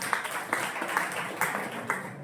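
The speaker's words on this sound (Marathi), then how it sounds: "सर्वांसाठी प्रशिक्षणार्थ्यांसाठी जोरदार टाळ्या वाजवा तुम्ही" An audience at a Savitribai Phule Jayanti event at a government ITI applauds the trainees, heard as a burst of hand clapping with soft rhythmic claps and light crowd noise.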